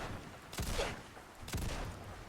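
Two heavy booming shots from a Barrett M82A1 .50 caliber rifle in Fallout 4, about a second apart, each a sharp blast with a long rolling tail.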